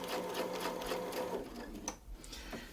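A sewing machine stitching along a Westalee Design Mini Spin-e-fex 4 quilting template. It hums with a fast, even needle rhythm that slows toward the end with a few separate taps. The sound is moderately quiet and close by.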